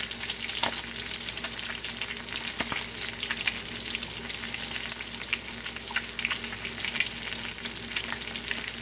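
Fish frying in hot oil gives a dense, continuous sizzle with scattered crackles and pops, close and steady throughout.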